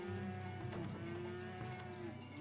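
Cattle moo steadily in the colony-building game Farthest Frontier, a herd of cows ready for sale lowing in a continuous droning chorus over ambient game sound.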